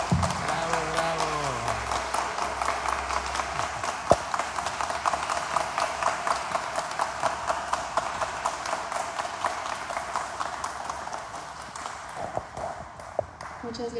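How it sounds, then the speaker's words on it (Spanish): An audience applauds at a tribute ceremony in Chilpancingo honoring a teacher's career, a loud, sustained wave of close clapping that thins slightly toward the end, with a voice briefly heard at the start. "podamos rendirle un aplauso con mayor calidad y con mayor fuerza."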